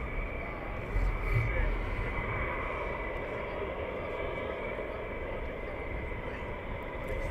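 A military jet taxiing at RAF Lakenheath produces a steady, droning engine roar with a high whine, heard from a distance, with people talking faintly beneath it.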